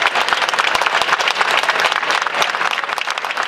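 Warm applause from a crowd at a rally for the Palestinian people, with loud, dense, continuous clapping throughout and no other sound standing out.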